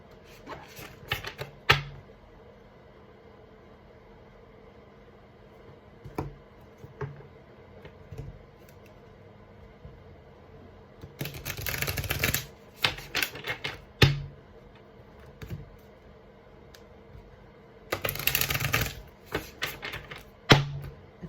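Tarot cards being shuffled up close in two short, rustling bursts, with scattered light taps and clicks in the quiet stretches between them.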